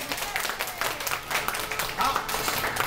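Guests at a 1975-class chemistry reunion of Chongshi Vocational High School clap together in a room, with a choppy burst of hand claps rising and falling while people keep talking over it.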